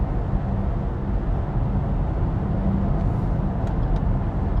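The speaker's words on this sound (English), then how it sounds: "mostly just road noise from this auto" Steady, loud road rumble inside a BYD Tang electric SUV on 22-inch wheels, a constant low broadband drone from tyres on the road with no engine note, continuous and unbroken.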